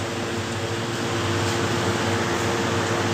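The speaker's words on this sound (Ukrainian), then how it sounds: "ось стоїть доволі потужний вентилятор, який зараз" A powerful ventilation fan runs indoors with a loud, constant whooshing roar and a low steady hum, with no change over the few seconds and no voices.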